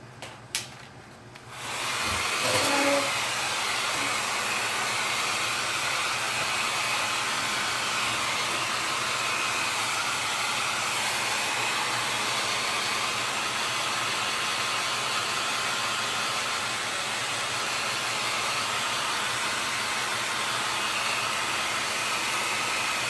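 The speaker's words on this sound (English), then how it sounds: "I'm going to use my hair dryer here for a second" A hair dryer switches on after a couple of faint clicks and blows steadily with a constant loud whooshing hum for the rest of the time.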